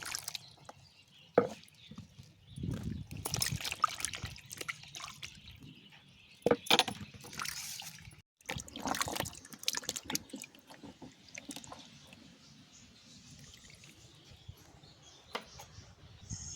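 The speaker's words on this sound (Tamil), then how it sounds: "நல்ல தண்ணியை ஊற்றி சுத்தம் பண்ணிக்கலாம்" Cashew apples, seeds removed, being rinsed several times in clean water, with intermittent splashing, pouring and dripping bursts, close by and moderately loud, with no talking.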